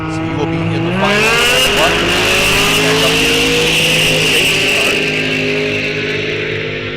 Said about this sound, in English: Look at that Camaro of Al Reinke's. Uh-oh. Might have heard a turbocharger or two on that one